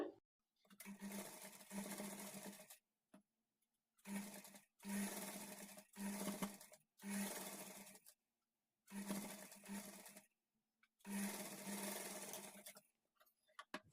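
A sewing machine stitches the front part of a blouse with a quarter-inch margin in six distinct bursts of close, rapid needle whirring, each a second or two long, separated by short silent pauses.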